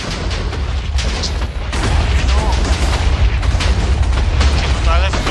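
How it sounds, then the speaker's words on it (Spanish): Explosions in the 2017 Dungeon video game boom in rapid succession, loud, dense blasts and rumbling over a constant low roar, filling the whole stretch. "¿Están matando las explosiones o qué?"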